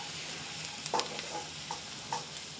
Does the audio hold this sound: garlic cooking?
yes